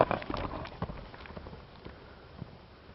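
A horse walks with its head held high, hooves clip-clopping in a loose, uneven rhythm that is louder at first and fades to faint, scattered steps.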